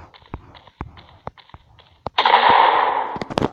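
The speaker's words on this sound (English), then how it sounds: "I just got sniped in the head." Gunfire in a shooting video game: a run of sharp, separate shots spaced in an uneven rhythm, then a louder sustained blast with a long ringing tail, followed by a few more quick cracks.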